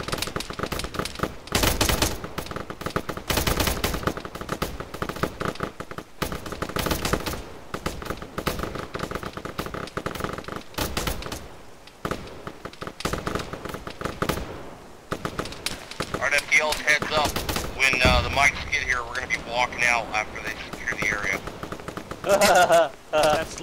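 Gunfire in the military game Arma, repeated bursts of automatic fire and single shots crackling throughout, some sounding distant, mixed with radio-style voices talking.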